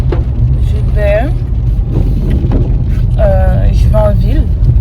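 Steady low engine hum and road rumble from inside a moving car in town, constant throughout, with a person talking over it.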